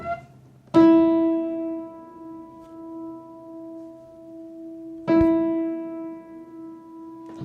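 A single piano note played with the sustain pedal held rings out and sustains with a long, slowly fading resonance, then is struck again and rings on.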